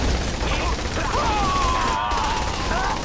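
Dense, rapid gunfire crackles continuously in Saints Row 3, loud and close, mixed with chaotic background noise and a brief voice.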